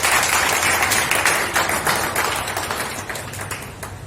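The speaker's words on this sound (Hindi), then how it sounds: "इसके लिए एक बार तालियां" An audience applauds in a hall to honour a young woman who topped the All India CA Intermediate exam, a dense burst of clapping that slowly thins out over about four seconds.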